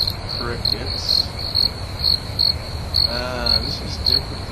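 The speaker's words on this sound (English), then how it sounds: "Crickets." Cricket chirping sound effect played back, a steady high pulsing trill repeating in regular bursts over a low background hum, fairly loud and alone without talk.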